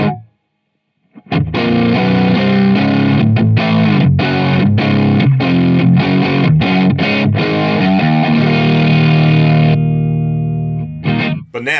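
Electric guitar runs through an overdrive pedal, either an LPD Sixty8 or a Z.Vex Box of Rock, giving thick, saturated chords and riffs played loud and continuous for about ten seconds before a brief pause and a final strum.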